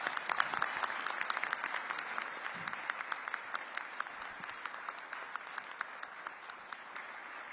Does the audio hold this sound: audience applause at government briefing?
yes